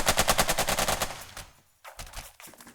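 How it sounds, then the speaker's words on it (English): Burst after burst of machine gun fire from the Burden of Command war game, loud and rapid at first, then thinning into a few separated volleys with short gaps. "the machine gun is firing at the enemy beyond the effective range of their rifles"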